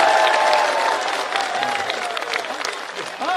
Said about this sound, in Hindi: इसलिए आपकी ताली बजनी चाहिए।